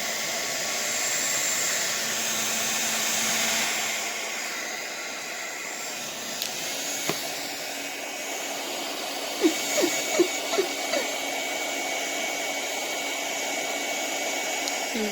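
A heat tool blows steadily while setting a transfer on polymer clay, a continuous airy hiss and whine that eases slightly partway through, with a few faint light clicks and taps near the end.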